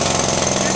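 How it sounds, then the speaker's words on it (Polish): Pneumatic air-powered hammer running in a mine, a loud, continuous dense rattling hammering that fills the whole short moment without a break. "urządzenie to jest młot. Też zasilany powietrzem."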